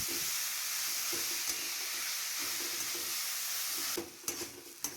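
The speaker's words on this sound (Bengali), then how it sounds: "জিরের গুঁড়োর সাথে মোচাগুলোকে কড়াইয়ে দিয়ে দেবে গ্যাসের ফ্লেম লো রেখে মোচাটাকে খুন্তি দিয়ে দশ মিনিট মতো ভালো করে নাড়াচাড়া করতে থাকবো" Banana flower stirred with cumin powder in a pan over a low gas flame, a constant soft sizzle with scraping spatula strokes, a few sharper knocks near the end.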